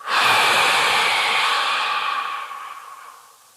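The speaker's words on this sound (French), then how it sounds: "grand inspire, rétention, expulsion forte" A single strong exhale through the mouth in a stress-relief breathing exercise, a loud close rushing breath that rises fast, holds, then fades out over a few seconds.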